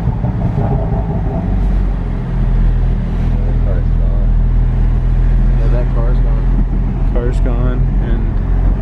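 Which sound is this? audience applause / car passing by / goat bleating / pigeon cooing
car passing by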